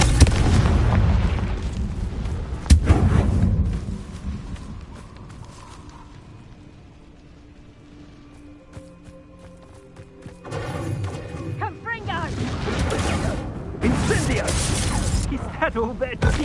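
Spell blast from the Confringo fire curse in the Hogwarts Legacy game, with loud booming explosive bursts at the start and again later, rumbling impacts and game effects between them.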